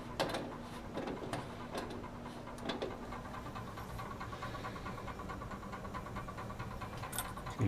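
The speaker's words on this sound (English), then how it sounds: "Apply our vacuum." A laboratory vacuum pump running steadily for suction filtration during an aldol condensation, with a low constant hum and faint mechanical ticking and clicks throughout, no voices.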